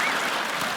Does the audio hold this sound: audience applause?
yes